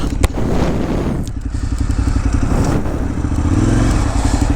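A KTM 990 Adventure S motorcycle accelerating in third gear on asphalt, its engine droning loud and steady with a rising pitch toward the end, heard close from the rider's position without talk.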